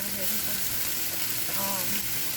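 Fried rice crackles and sizzles loudly in a pan at a campsite as it is stirred, a dense, unbroken hiss close up.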